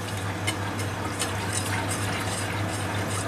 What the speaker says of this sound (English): then we're going to add on the rice milk